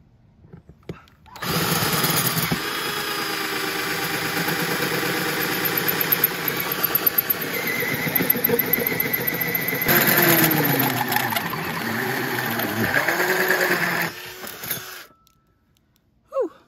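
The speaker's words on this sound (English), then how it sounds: "So we'll do the scary part now, drilling the big hole." Power drill cutting a large hole through the wall of a Chevy Express camper van, a loud, continuous grinding whine with stuttering surges, starting abruptly and cutting off near the end before a brief quiet tail.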